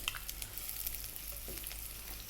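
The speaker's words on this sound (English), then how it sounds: "I'm going to drop in the onion" Onion sizzling in olive oil in a small pan over above-medium heat for Turkish pide, a steady, crackling fry with light stirring, close and without talk.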